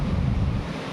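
Sea waves at a beach, a brief steady wash of surf mixed with wind buffeting the microphone, close and fairly loud.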